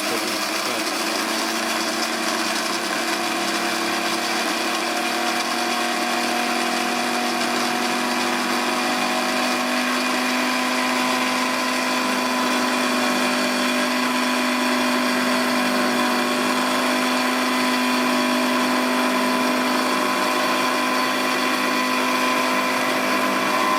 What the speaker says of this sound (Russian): Кофе она смолола.